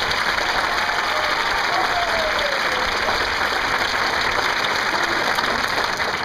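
Audience at a marching band parent show applauds the student section leaders, giving dense, steady clapping from a crowd that lasts throughout with no pauses.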